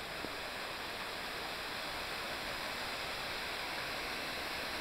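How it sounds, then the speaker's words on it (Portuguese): A waterfall in a wooded Brazilian setting rushes in a constant, even roar, heard from a short distance with no other sounds. "Queda da cachoeira, eu tô logo aqui na frente."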